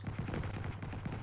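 Rapid gunfire in the Unreal Engine 5 Lyra shooter game, a quick burst of several shots in close succession over a low steady hum, fairly quiet.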